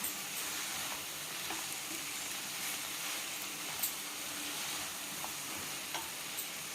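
Veg manchurian gravy frying in a pan on a stove, a steady close sizzle with faint stirring clicks and scrapes running throughout, no voices.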